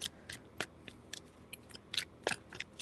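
Tarot cards being shuffled, heard as a quick run of soft, crisp riffling flicks repeating in close irregular bursts, near and fairly quiet, with no voices.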